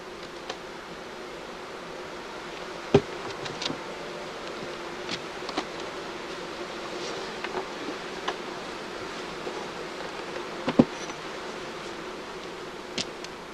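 Honeybees humming steadily around a hive, a continuous close drone with faint scattered ticks and rustles, no voices.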